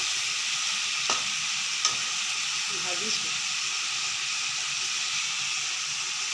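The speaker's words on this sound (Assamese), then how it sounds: "অলপ টাইম ল' ফ্লেমত ভাজি থাকিব লাগিব" Meat frying in a pan over a low flame, being stirred, gives a steady close sizzle and hiss with a few soft scrapes and taps of the spoon.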